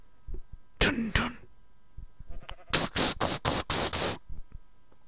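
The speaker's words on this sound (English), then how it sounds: "This is a sheep. It's a black sheep." Black sheep in the video game Minecraft giving a short run of six evenly spaced bleats, preceded by a few brief, scattered sounds; nobody speaks.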